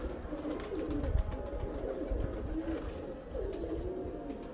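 A tall, sturdy Teddy pigeon kept by a pigeon fancier coos steadily in repeated low rolling phrases, close and fairly loud, with no talking.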